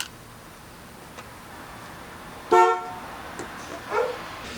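A 1994 Chevrolet S10 Blazer 4x4's horn gives one short, loud toot, followed a moment later by a fainter brief beep, over a quiet cabin with faint ticking.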